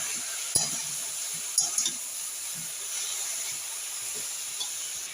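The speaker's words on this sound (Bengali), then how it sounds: "আবারও নেড়ে দেবো।" Radish pieces with a pinch of salt are stirred in a hot frying pan, giving a steady soft sizzle with a few sharp scraping clicks of the spatula against the pan.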